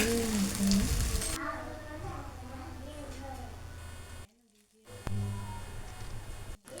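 Cauliflower frying in a pan gives a loud crackling sizzle at first, then a lower steady frying hiss beneath a voice talking, with a brief cut to silence near the end.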